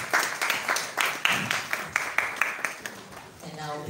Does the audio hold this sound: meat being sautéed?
no